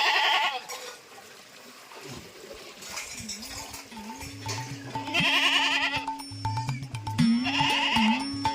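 Goats bleat repeatedly nearby on a farm, several drawn-out wavering calls coming one after another with quiet gaps between them, over light background noise.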